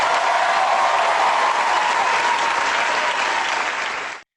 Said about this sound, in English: Let's have a big round of applause for all of the guys that are joining us